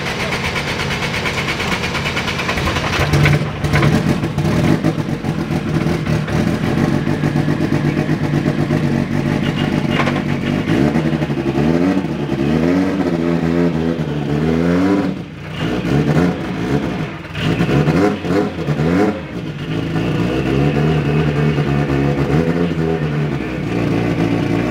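A turbocharged K20 engine swapped into an Acura NSX by RS Future revs hard and loud, climbing and falling through repeated sweeping pulls with brief dips between them, close by and with no talk.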